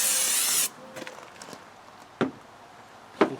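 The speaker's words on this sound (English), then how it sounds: "we're going to use some brake cleaner" Brake cleaner hisses from an aerosol can onto a Land Rover air intake in one loud spray burst lasting about half a second, followed by quiet, with a few light clicks and handling taps and two sharp knocks.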